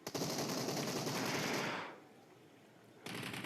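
Rapid automatic gunfire in a mobile battle royale match, a dense burst of loud shots that cuts off midway, leaving a quieter stretch before more firing begins at the end.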